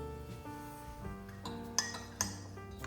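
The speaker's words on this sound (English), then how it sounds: "Give it a little stir." A spoon clinks against a cup while stirring homemade Kenyan coffee with a splash of milk, a few light metallic taps standing out over a busy kitchen background.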